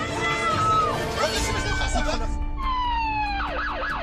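Fire engines arriving at a simulated train derailment exercise, wailing sirens sweeping up and down over a busy crowd with people chattering nearby.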